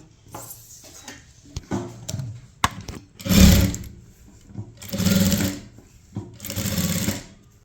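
Sewing machine running in three short bursts as it stitches fabric on a kurti top, with quieter handling clicks and rustles between the runs.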